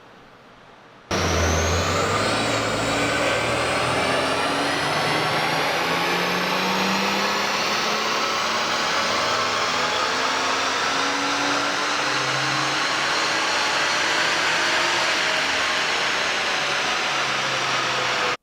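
BMW 335i engine pulling on a dyno at stock tune, a loud sustained roar rising steadily in pitch through the run after a short quiet start, with no talking.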